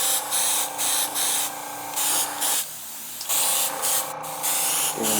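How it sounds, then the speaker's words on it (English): Spray paint hisses onto a model car spoiler from a Jo-Han 1970 AMC Javelin Trans Am kit in several short, even bursts separated by brief pauses, close and clear, with no voices. "that's the final coat for that side of the spoiler"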